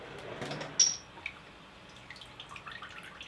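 Water is emptied from laboratory test tubes in a homemade sous vide science water bath, with a sharp splash followed by soft trickling and dripping, close by and fairly quiet, with no talking.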